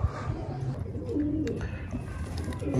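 Pigeons coo softly and fairly close in an outdoor loft, low murmuring calls over a rumbling background with faint scattered clicks.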